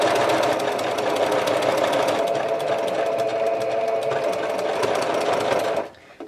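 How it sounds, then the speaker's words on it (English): A sewing machine running steadily while stitching a quarter-inch seam on a 3D bow tie quilt block, a loud continuous fast mechanical whir that stops abruptly near the end. "I'm using 1/4 inch seam and I'm going to sew up until I get to the seam line"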